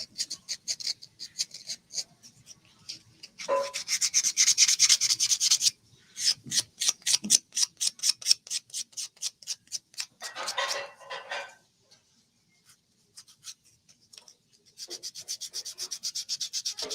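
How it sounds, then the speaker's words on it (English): Close, rhythmic sanding of a small earring's edges, with quick back-and-forth scraping strokes coming in bursts of rapid rubs separated by short pauses and brief silences, no speech. "Just sand the edges a little bit."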